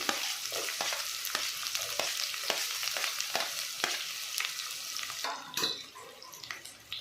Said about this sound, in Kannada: ಆನಿಯನ್ ಸಾಫ್ಟ್ ಆಗೋವರೆಗೂ ಚೆನ್ನಾಗಿ ಫ್ರೈ ಮಾಡ್ಕೋಬೇಕು.